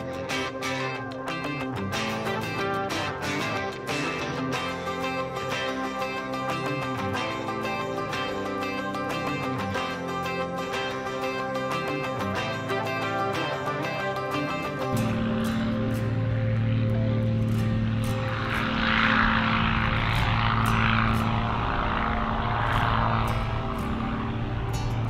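A Continental aircraft engine during break-in, run up to about 2,000 RPM: a steady, loud propeller drone that shifts partway through into a deeper, stronger roar with a rushing wash, continuous and close with no talk.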